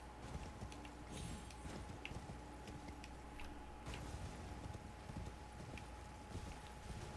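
Horse hooves clip-clopping at a riding pace in the video game Elden Ring, a steady rhythm of moderately loud hoofbeats over a constant game ambience with a low hum, no voices.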